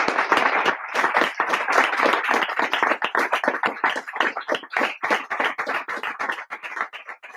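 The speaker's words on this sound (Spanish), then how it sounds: "para el que os pido desde ya un aplauso muy fuerte, que es Antonio Fontana." An audience applauds an author at a book presentation, steady close clapping from a modest crowd that carries on throughout, thinning slightly toward the end.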